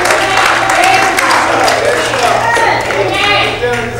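Church congregation clapping and calling out, a dense wash of applause mixed with cheering and lively voices, loud and close, over a low steady hum from the sound system.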